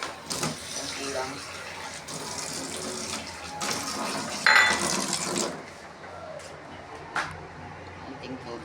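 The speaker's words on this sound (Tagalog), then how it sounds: "Tapos lagyan natin ng konting tubig." A small splash of water pours into a pan of cooking squid, a steady close-up stream of liquid that runs for a few seconds over the kitchen clatter, then tapers off.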